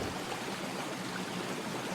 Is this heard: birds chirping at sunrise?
no